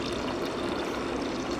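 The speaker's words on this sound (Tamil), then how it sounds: "தேவையான அளவு தண்ணி இதுலேயே நம்மளுக்கு சேர்த்துக்கலாம்." Water pours steadily into a tamarind and tomato mixture for rasam, a soft, continuous close-up splashing and trickling with no talking over it.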